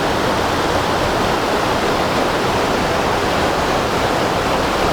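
Water pours steadily between old timbers inside an abandoned iron mine, a dense, loud, continuous rushing wash with no voices.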